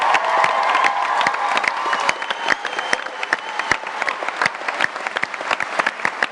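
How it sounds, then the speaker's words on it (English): A live panel audience at a PaleyFest event applauds a singer named Tamala, with dense, sustained clapping and a few cheers that thin into sharper scattered claps toward the end. "one more round of applause for Tamala for singing for us today"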